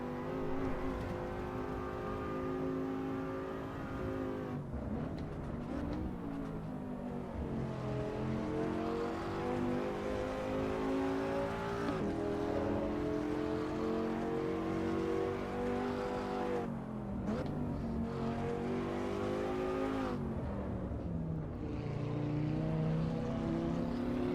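Race car engine in the video game Assetto Corsa Evo roars continuously, with repeated revving climbs and gear-shift drops while chasing a green Audi, loud and alone throughout.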